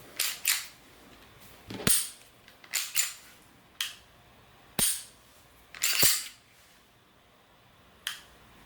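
Sharp, crisp clicks of a Smith and Wesson Shield Plus Performance Center trigger pulling and resetting come one after another at an uneven pace, each short and close, with quiet gaps between them and no voices.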